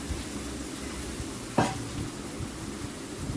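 Onions with turmeric, chilli and cumin powder frying in oil, a steady low sizzle with one brief louder scrape of stirring partway through.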